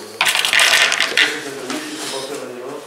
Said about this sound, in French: Moi, je taille avec le ciseau.